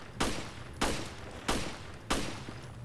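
Four evenly spaced gunshots from the survival horror game Resident Evil: Revelations, each a sharp, close crack with a short decaying tail, fired about every two-thirds of a second.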